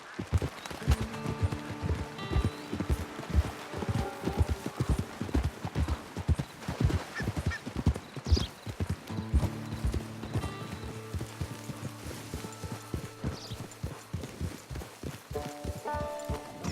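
Horse hooves clip-clop steadily in the Red Dead Online video game, a brisk rhythmic trot that runs throughout, close and clear, over a faint background of game music and no speech.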